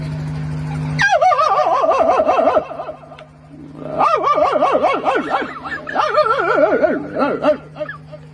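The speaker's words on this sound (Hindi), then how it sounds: "कुत्ता जो है धमका रहा है कैसे।" A stray village dog barks and yowls loudly and close, in long wavering bursts with a short pause between them.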